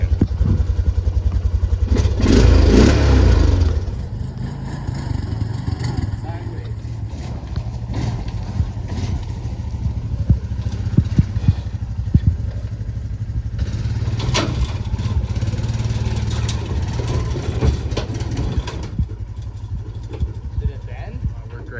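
Engine of a Honda quad ATV runs steadily close by, with a loud burst of revving early on and a rougher, busier stretch in the middle, plus clattering from a sled deck project.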